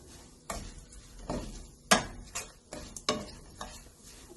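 Stirring chicken with chillies and pepper in a pan: intermittent spoon scrapes and clinks against the pan over a soft sizzle, about six strokes, close but fairly quiet.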